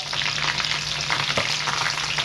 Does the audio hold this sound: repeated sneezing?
no